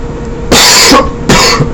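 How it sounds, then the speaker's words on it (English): Two sharp, close coughs, one after the other, separated by a brief pause over a quiet background hum. "ignore my cough"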